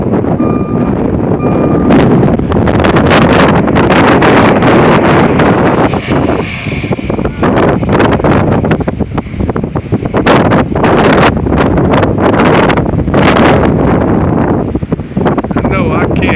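Strong gusts during a Kansas windstorm batter a handheld microphone, a loud continuous roar rising and falling in heavy bursts, with rustling and buffeting all the way through.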